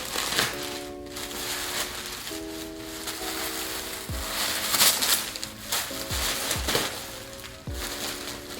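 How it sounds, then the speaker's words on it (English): Crinkling and crushing of plastic packaging as a Kate Spade bag is unwrapped, close and irregular rustles over soft background music, with no talking. "now let's go ahead and unwrap the bag"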